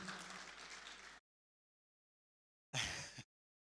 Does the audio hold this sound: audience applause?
yes